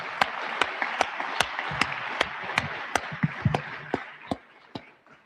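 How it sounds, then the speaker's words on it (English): Audience applause for a men's basketball team at a program event, scattered claps with sharp individual hand strikes standing out over a steady wash of clapping, fairly close and continuous for several seconds. "Let's give our men's basketball team a round of applause."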